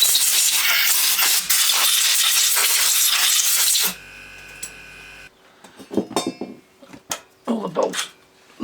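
Compressed air hisses loudly and steadily for about four seconds, blowing dirt off a Parker PPPW-2900 petrol jet washer, then cuts off, leaving quieter clinks and handling noises.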